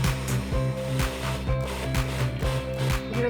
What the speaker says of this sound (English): We're going to drizzle in some of the water while the food processor is running.